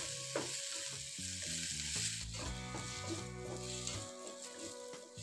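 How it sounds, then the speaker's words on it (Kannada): Chopped ripe tomato fries with onions in a pan for drumstick curry, a soft, steady sizzle with faint stirring, quiet and partly buried under background music. "ಇದನ್ನು ಕೂಡ ಈರುಳ್ಳಿ ಜೊತೆ 1-2 ನಿಮಿಷ ಚೆನ್ನಾಗಿ ಫ್ರೈ ಮಾಡ್ಕೋಬೇಕು."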